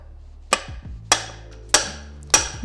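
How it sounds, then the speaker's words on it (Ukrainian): Four evenly spaced, light metallic hammer taps knock the crankshaft out of a Vitals Master BKZ 5634j chainsaw, each a crisp close strike ringing briefly, with faint clinks between them. "легенькими ударами, акуратно, щоб не розплескати різьбу, достаємо колінчатий вал"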